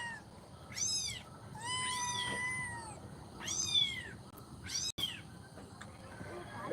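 A cat meows several times, some short and some drawn out, fairly close against a quiet background with a faint hum.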